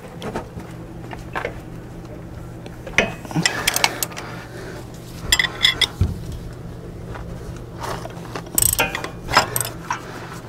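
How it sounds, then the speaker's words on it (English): A ratchet with a wrench on it for leverage works at a seized front wheel bearing bolt on a Ford F350, giving intermittent clicking and grinding bursts, close up, over a low background hum. "I'm gonna try it with a ratchet first."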